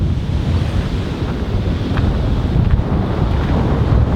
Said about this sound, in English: Maddie, look at the ocean.